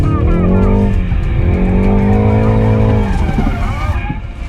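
A BMW 330i M Sport G20 drifting: loud, close tire squeal wavers in pitch while the engine roars underneath, holding nearly the whole time before easing off at the end.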